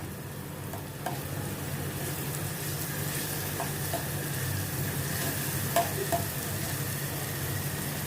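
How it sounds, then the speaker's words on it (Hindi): Masala sautéing in ghee in a pan makes a steady close sizzle throughout, with a few faint clicks of stirring and no talk. "ये मसाले को पहले मैं अभी ये घी में थोड़ा सौते करती हूँ, जैसे इसका कच्चापन निकल जाए।"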